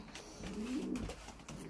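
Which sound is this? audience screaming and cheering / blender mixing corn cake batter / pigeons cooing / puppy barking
pigeons cooing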